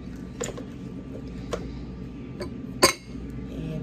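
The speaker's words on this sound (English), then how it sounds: "Then you put some ice cubes. You like a couple, like 4 ice cubes." Ice cubes dropped into a glass while making a Shirley Temple, giving a few separate clinks with one sharper knock near the end over a steady low room hum.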